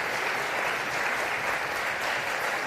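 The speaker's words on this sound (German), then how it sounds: "mit einem donnernden Applaus zu verabschieden" A large audience gives a guest a long, dense ovation, clapping merged into a continuous roar that stays level and somewhat distant throughout.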